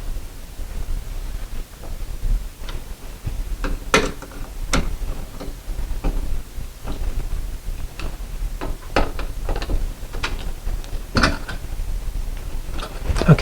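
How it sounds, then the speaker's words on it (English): Screws on a light fixture mounting bracket are driven tight, giving close, irregular clicks and ticks of the screwdriver over a low hum. "then hold it, then you can screw these tight"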